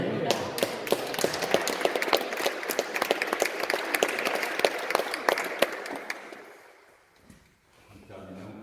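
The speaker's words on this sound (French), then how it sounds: "Alors, on applaudit." Applause from the congregation at a christening service, a dense burst of many hands clapping for about six seconds before quickly dying away into quiet room tone.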